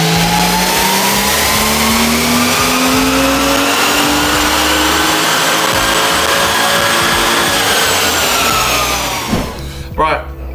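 A tuned car engine on a dyno, running on a base pump map, revs hard and loud with a steadily rising pitch for about nine seconds, then drops off abruptly as the throttle closes.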